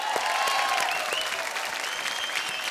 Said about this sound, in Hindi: जोरदार तालियां वंश के लिए